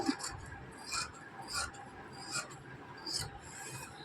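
Scissors cutting blouse fabric at close range, a series of short, soft rasping snips in an irregular rhythm, fairly quiet, with no talk.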